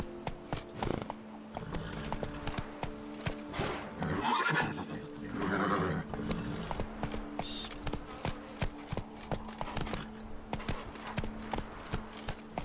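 Roach the horse in The Witcher 3 neighs and whinnies with clip-clopping hooves in a steady rhythm, close and clear against low game ambience, with a brief spoken voice.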